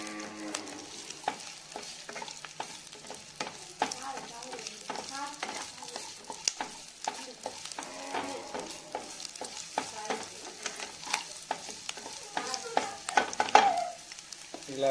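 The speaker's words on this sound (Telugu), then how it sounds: "ఇలా దీన్ని ఫ్రై చేసుకోవాలి ఫ్రెండ్స్." Chicken frying in a pan for donne biryani, a soft steady sizzle broken by frequent sharp spatula scrapes and clinks of stirring, fairly close and moderately quiet.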